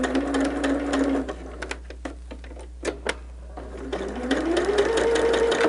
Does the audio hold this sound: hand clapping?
no